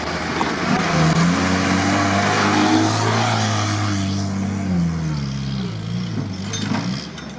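A Jeep Willys with a weak engine revving and accelerating off-road up sandy forest hills, loud close engine drone rising and falling in pitch through gear changes and sustained throughout.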